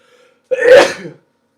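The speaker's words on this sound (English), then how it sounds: "Gonna sneeze." A single sharp sneeze from a man streaming a FIFA 15 career mode game, close to the microphone, short and alone after near silence.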